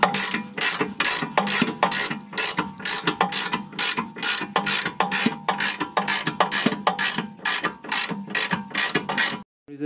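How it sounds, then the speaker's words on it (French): A ratchet wrench unscrewing a nut on the rear control arm of a 2006 Audi A3: steady, close, rapid clicking strokes in regular bursts with brief pauses, ending abruptly. "je suis en train de dévisser avec le cliquet"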